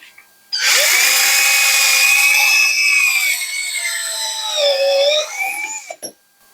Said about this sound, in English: now we are going to drill into this